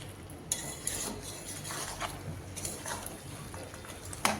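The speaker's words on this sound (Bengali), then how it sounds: "পাঁচ মিনিটের জন্য এভাবে কষিয়ে নিচ্ছি আবারও" Mutton vindaloo sautéed in a pan, a spoon scraping and knocking against the metal in uneven strokes over a faint sizzle, close and fairly quiet.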